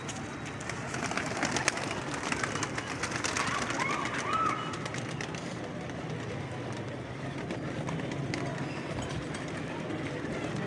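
Pigeons coo softly amid a steady hiss of background noise, with occasional flutters and faint distant voices, at a pigeon-keeping loft in Lahore.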